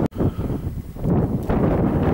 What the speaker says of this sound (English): Well, I hope you can hear me above the wind.